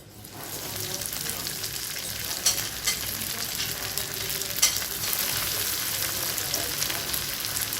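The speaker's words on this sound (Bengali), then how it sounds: "প্রথমে একটি কড়াইতে তেল গরম করে তারপরে আমরা পনির ফিঙ্গারগুলোকে এর মধ্যে ভেজে নিব।" Paneer cheese fingers deep fry in a pan of hot oil, giving a steady, close, dense sizzle with crackling pops throughout and no voices.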